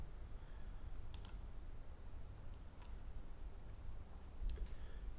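A few faint computer mouse clicks while working through a software installer, isolated soft ticks over a steady hiss.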